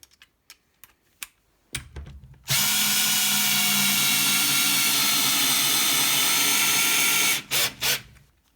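A Parkside 12V PBSA 12 C2 cordless drill driver runs at speed 1 with a steady, loud whine for about five seconds. Scattered clicks and handling knocks come before the run and just after it.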